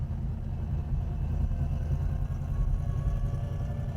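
A 1969 Pontiac Grand Prix SJ engine idles steadily with a close, deep, low rumble that holds even and unbroken throughout.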